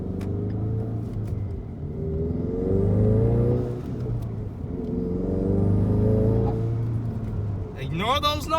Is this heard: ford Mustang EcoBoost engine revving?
yes